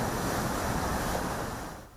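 Floodwater from a burst water main rushing across a road around a submerged taxi, a loud, continuous turbulent roar that fades near the end.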